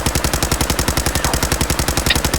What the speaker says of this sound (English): This is a pistol, or it was a pistol. Now it's a machine gun.